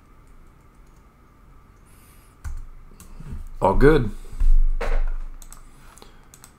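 Quiet typing on a computer keyboard, sparse clicks and keystroke bursts under a low background hum, with someone speaking briefly partway through.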